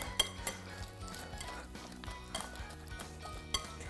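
Egg mixture being stirred in a bowl, with quiet irregular clinks and taps of a utensil against the dish, soft and close, no speech.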